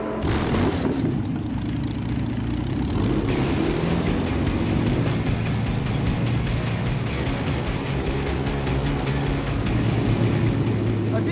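Loud, steady engine drone with a deep rumble from a huge custom boat-tail car built from a firetruck on a super single semi chassis, running continuously close by after a brief start-up.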